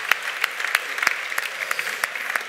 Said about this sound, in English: So join me in a applause.